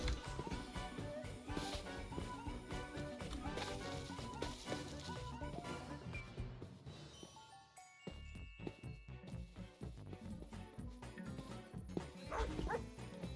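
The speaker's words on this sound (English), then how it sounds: "Dogs." Minecraft wolves barking in a wide valley, with yips and small whimpers running through a busy game soundscape of music and effects, loud and steady for most of the span.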